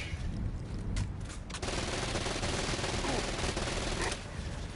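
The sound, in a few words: lava cannon firing in the video game Disoriented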